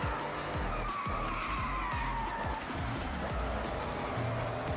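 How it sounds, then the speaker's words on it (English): A car in Forza Horizon 6 skids under a yanked handbrake on a dirt-and-road corner, tires squealing and scrabbling over a revving racing engine with repeated gear-shift sweeps, fairly loud and continuous. "I just ripped the handbrake and just like stopped on the apex."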